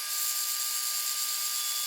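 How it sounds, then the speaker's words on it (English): A belt sander runs as it rounds over the ends of a piece of scrap ash wood, giving a steady high-pitched grinding hiss close up for a couple of seconds. "Sand off ends on belt sander to round over."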